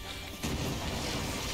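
A giant cannon fires during a Final Fantasy XIV Dawntrail trial, a sudden loud boom that cuts in partway through and carries on as a sustained crashing roar.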